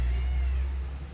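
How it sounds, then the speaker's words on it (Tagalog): A house cat meows once or twice in a home bedroom, faint and brief over a low background rumble, with no talk. "Pusa."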